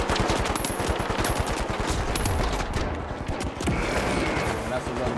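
Rapid automatic gunfire from The Finals video game rattles in loud, dense bursts that continue almost without pause, with other gameplay noise mixed in.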